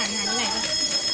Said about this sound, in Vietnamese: Ô, sao lại có báo cháy?